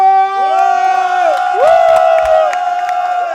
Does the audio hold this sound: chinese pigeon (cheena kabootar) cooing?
no